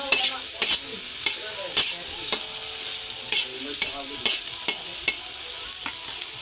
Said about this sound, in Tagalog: Saka na natin igisa kapag nagmamantika na siya. Isa na yung ating bawang.